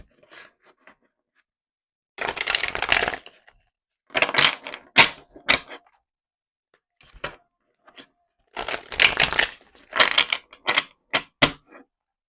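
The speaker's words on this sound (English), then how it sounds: "let's do a little shuffle" Tarot card deck being shuffled by hand at close range, crisp papery riffles and slaps in irregular bursts separated by short silences.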